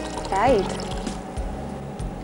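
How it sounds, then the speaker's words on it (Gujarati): Water is poured into boiled dal in a kitchen before churning, a short liquid pour heard close up under a talking voice. "થોડું પાણી નાખીને ચર્ન કરી દઈશું"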